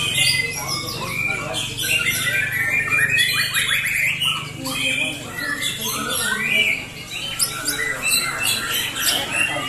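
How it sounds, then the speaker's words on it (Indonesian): White-rumped shama (murai batu) songbirds in a contest simulation at competition hanging poles give repeated loud, sharp chirps and whistled phrases throughout, over a steady background murmur. "Persiapan simulasi lomba burung murai batu di gantangan lomba"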